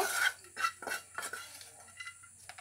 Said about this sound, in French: Je vais rajouter mes lardons.